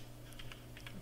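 Keys tapped on a computer keyboard while entering data into a mainframe dataset, a short burst of several soft, close keystrokes over a low steady hum.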